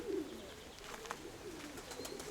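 A pigeon coos softly in low, throaty repeated notes, with faint chirps and light background noise around it.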